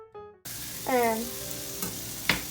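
Chopped onions, chicken and shrimp for a spicy chow mein hit a hot pan and sizzle loudly, with a few spatula scrapes and knocks over the steady frying hiss.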